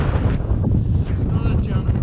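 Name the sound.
strong wind on a ridge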